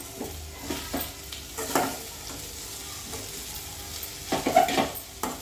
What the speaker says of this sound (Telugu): మిరపకాయలు ఫ్రై కాగానే ఈ పుట్టుకూర వేసేసుకోవచ్చు